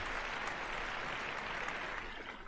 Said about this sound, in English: And a big round of applause for Steven.